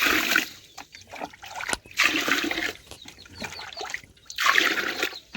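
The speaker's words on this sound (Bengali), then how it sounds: "এখন জল ঢেলে দেবো" Water poured over a large batch of rice for washing, arriving in three loud splashing gushes with quieter trickling pauses between, close by.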